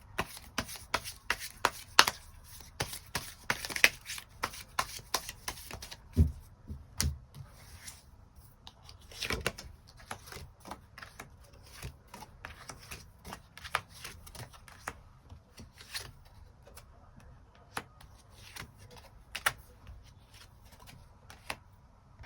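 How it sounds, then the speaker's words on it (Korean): Tarot cards are shuffled repeatedly before a draw, a soft, steady run of riffling flicks and light taps close by, with no voices. "추가 카드 뽑아보도록 하겠습니다"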